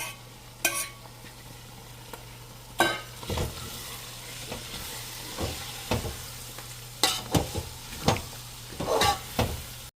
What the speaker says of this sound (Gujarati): બધું પ્રોપર સંતળાઈ ગયું છે અને ઉપર તેલ પણ દેખાવા લાગ્યું છે